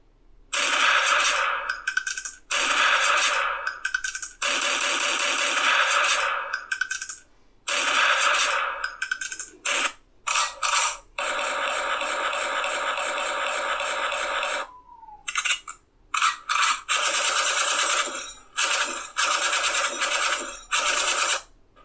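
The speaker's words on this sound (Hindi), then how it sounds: "मैं आपको कुछ रिंगटोन सबसे पहले प्ले करके सुना देता हूँ यहाँ पर आप सुन सकते हैं" A series of electronic phone ringtones plays one after another, each a loud, bright, repeating pattern separated by brief pauses, with no talking.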